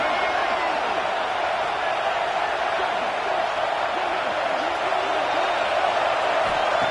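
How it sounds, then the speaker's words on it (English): A stadium crowd in the NCAA 26 college football video game roars for a defensive stop near the goal line, a dense, steady wash of cheering that holds at an even, loud level throughout. "The crowd really making some noise now, trying to help out this defense to get this stop near the goal line"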